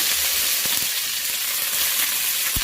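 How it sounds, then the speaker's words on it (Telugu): Green chillies, curry leaves and cumin frying in oil in a pan for lemon chitranam, a loud, dense sizzle with a few sharp crackles and stirring knocks. "వేసుకొని ఇలా ఫ్రై చేసుకోవాలి"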